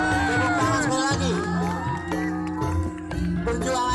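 A large crowd at a record-breaking community gathering in West Java cheers and whoops loudly over music or amplified voices, a continuous close roar with scattered shouts.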